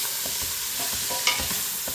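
Vegetables and garlic sauté in a pot for pumpkin soup, a soft sizzle under repeated scraping stirs that knock in an uneven rhythm, close by and moderately quiet.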